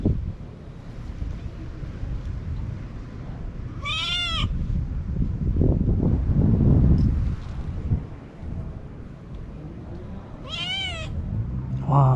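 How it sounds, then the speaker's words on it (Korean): A friendly stray cat following someone on a street gives two short, clear meows several seconds apart, heard over steady outdoor wind rumble and low background noise. "길고양이들이 엄청 경계심이 많아서 도망다니기만 하는데"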